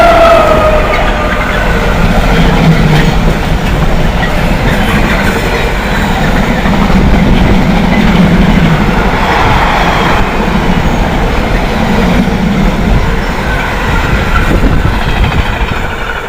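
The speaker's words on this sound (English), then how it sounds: "That's the second time this week I've copped a freight train." A freight train hauled by Class 90 electric locomotive 90016 rumbles past close by, a loud sustained roar of wheels and wagons with rhythmic clatter over rail joints lasting the whole stretch, no talking.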